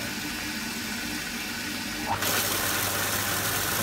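A water pump switched back on to supply flow when the mains water is cut off: a steady hiss of running water, with a low motor hum starting abruptly partway through and continuing louder.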